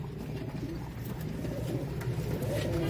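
Soft, low coos from Dub wale pigeons repeat over a constant hum of background noise, with no talking.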